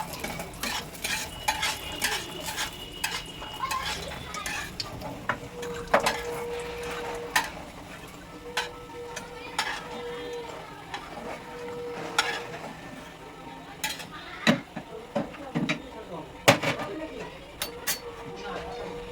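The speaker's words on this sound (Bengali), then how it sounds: "বড়িগুলো আগে দিয়ে দিলাম, ভেজে নিচ্ছি" Bori lentil dumplings fry in a pan for a cauliflower dish, sharp spoon scrapes and stirring clatter breaking over a low sizzle, with birds cooing in the background.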